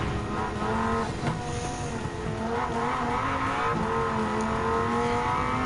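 Dodge Viper GTS SRT10 coupe in Gran Turismo 7 holds a steady engine drone with shifting pitch as it accelerates, tires squealing now and then, loud and continuous with no talk.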